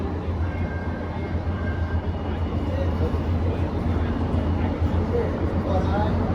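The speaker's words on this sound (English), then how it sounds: "That's just the Long Beach bound train." A Metro A Line light rail train bound for Long Beach gives off a steady, continuous rumble with voices talking over it throughout.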